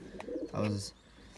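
A newly acquired racing pigeon gives a soft, low coo, rising briefly over quiet background sound, close by and fairly faint, with a short chirp just before it.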